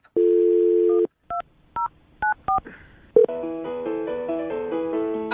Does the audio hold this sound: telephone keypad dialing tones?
yes